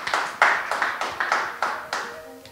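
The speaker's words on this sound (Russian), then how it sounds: "Ваши аплодисменты, спасибо огромное." A small audience at a bookstore event gives sparse, slow clapping, about nine distinct claps in a loose rhythm, fairly quiet and nearby with no voices.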